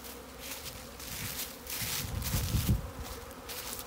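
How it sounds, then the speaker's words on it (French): Honeybees from overwintered hives taking their first flight of 2023, a dense close swarm buzz that swells and fades steadily, loud and unbroken with no talking. "Regardez, les abeilles se déposent sur mes gants."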